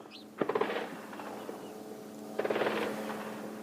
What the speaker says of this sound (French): On entend aussi les tirs d'armes automatiques